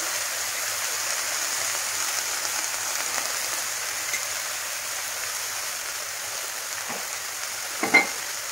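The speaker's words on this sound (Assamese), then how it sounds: "গেছটো কমাই দি মই কচুখিনি মজাই ল'লোঁ।" Colocasia stems and fish frying in a pan, a steady, even sizzle running throughout with a brief stir or clink near the end.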